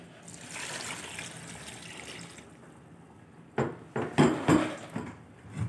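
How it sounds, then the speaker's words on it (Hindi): Water pours into a cooking pot for chicken and cauliflower pulao, a soft trickling splash that grows louder in a few close glugs near the end. "तो हम 3 गिलास इसमें पानी डालेंगे।"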